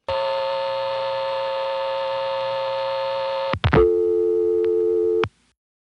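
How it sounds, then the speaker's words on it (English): Steady telephone busy signal from a 1976 Stromberg-Carlson ESC exchange in Chancellor, Virginia: a continuous buzzing tone, then a click and a different held tone, loud and alone with no talk. "When I dialed the number of the phone I was calling from, I didn't get anything fancy like a ringback, just a normal busy."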